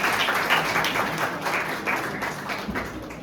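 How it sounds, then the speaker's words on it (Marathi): Steady applause from a graduation ceremony audience as a college student is called up to receive his degree, dense clapping sustained throughout at a moderate distance without pause. "जोरदार टाळ्या"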